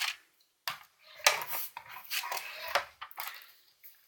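Paper creased with a bone folder on a scoring board during scrapbooking, a series of close scraping and rubbing strokes separated by short pauses.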